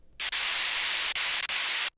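A stretched white noise sample from a future bass track hisses loud and bright. It starts after a brief silence, drops out briefly a few times and cuts off cleanly at the end.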